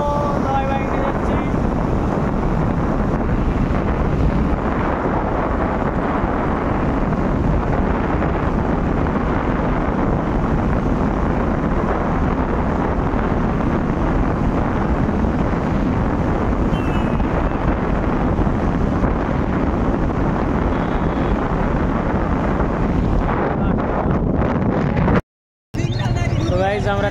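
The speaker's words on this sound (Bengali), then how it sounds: "দেখো সবাই বাইকে যাচ্ছি।" Continuous loud wind buffeting while riding a motorbike along highway NH41, a steady roar filling the whole stretch, with a very brief dropout near the end.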